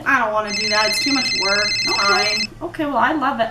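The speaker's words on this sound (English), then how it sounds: "Oh, sorry. That's my phone." A telephone rings with a steady electronic ringtone that sounds for about two seconds, partly under people talking nearby, who keep speaking after it stops.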